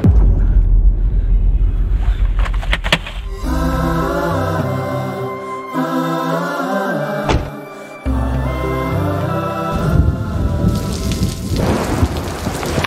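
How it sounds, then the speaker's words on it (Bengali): Rain falls steadily during a storm in a Bengali TV drama scene, with rumbles of thunder, all beneath swelling background music and no talking. "বৃষ্টি শুরু হয়ে গেল।"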